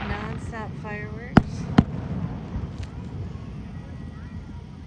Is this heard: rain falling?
no